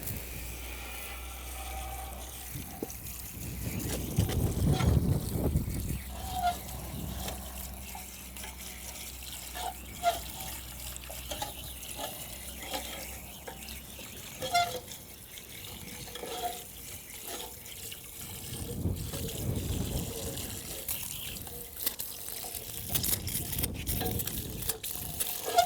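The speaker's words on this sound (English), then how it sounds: "So I've got my hose here, and I'm going to hose that off as best as I can." A garden hose sprays water over a cylinder mower, washing grinding paste off its blades; the steady rush of water swells louder at times as the cylinder is spun and rinsed, with no talking.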